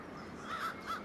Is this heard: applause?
no